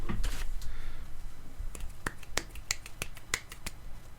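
One person claps by hand during a podcast recording, a series of sharp, separate slaps in an irregular rhythm, fairly close and alone after a short stretch of low background noise.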